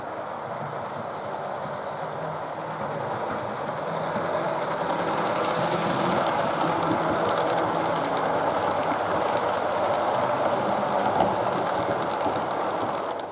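Jepson motor hums inside an A21 model locomotive built from a Jameson hand-cut kit, a steady whirring drone with a faint mechanical rattle that gets slightly louder after a few seconds and runs on evenly, no voices.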